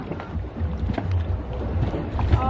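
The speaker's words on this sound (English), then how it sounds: "Just a little quick dinghy ride away." A small dinghy moves across Caribbean water, with a steady outboard motor drone, water splashing against the hull and wind buffeting the microphone, close and continuous.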